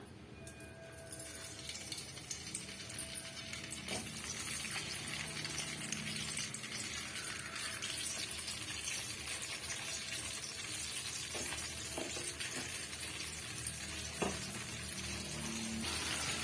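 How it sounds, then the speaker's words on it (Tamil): Cut pieces of eggplant fry in hot oil with a steady, close sizzle that lasts throughout, while occasional clinks of a utensil against the pan cut through; no one speaks. "இது போல வந்து நாலு பீஸை கட் பண்ணி எடுத்துக்கோங்க இப்போ நம்ம எண்ணெயில சேர்த்துடலாம்"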